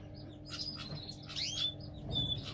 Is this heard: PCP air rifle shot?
no